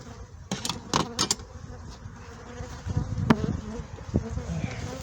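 Honey bees at an open hive late in the summer honey flow, with a steady close buzz running throughout, broken by a few sharp clicks and knocks of hive frames and tools being handled.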